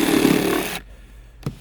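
Cordless Milwaukee reciprocating saw cutting through a small wood block, a loud buzzing rasp for under a second that cuts off abruptly, followed by quiet and a single short knock.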